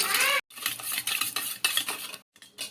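A utensil whisks a mixture of cold water, salt and sugar in a bowl, with quick, close, clinking strokes in uneven bursts broken by two brief pauses.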